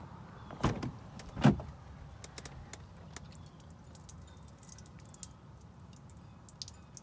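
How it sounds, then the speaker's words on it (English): Ford Raptor door slammed shut twice in quick succession, each a solid close thud. A door with water trapped inside, though any sloshing is not distinct, then light ticks in a quiet setting. "And then when you shut it, it sounds like a swoosh."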